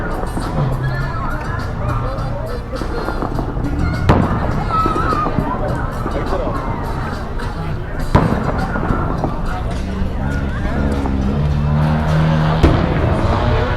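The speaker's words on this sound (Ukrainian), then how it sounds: "ці вибухи просто феєрверки" Independence Day fireworks over a busy street in Ukraine: occasional dull, distant booms and crackles punctuate steady traffic rumble, with people talking nearby throughout.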